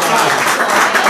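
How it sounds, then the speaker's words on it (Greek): Audience at a Cretan music evening bursts into loud, dense applause, many hands clapping close and continuously through the whole short moment. "Ένα χειροκρότημα"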